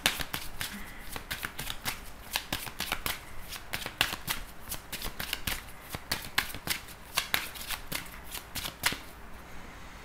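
Oracle cards are shuffled repeatedly by hand, producing crisp, close riffling bursts in a quick irregular rhythm with brief pauses between.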